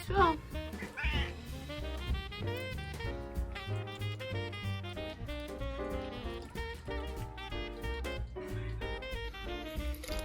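A cat meows repeatedly up close, its cries rising and falling, mixed with other noises in the room.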